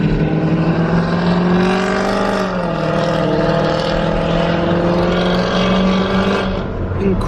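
Mercedes-AMG car engine at a race track, a loud droning exhaust note with rising and falling revs close by, steady throughout with crowd noise and talk beneath.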